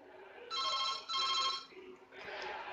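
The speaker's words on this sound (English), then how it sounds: "Oh, it's ringing." A telephone ringing on an outgoing call: two long, loud double-tone rings in a row, then a softer burst of noise as the line connects.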